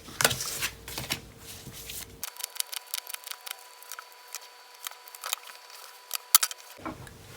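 Tarot cards shuffled by hand, a run of crisp riffling snaps and soft slides at close range, irregular in rhythm, alone without talk, with a faint background hum in the opening and closing moments.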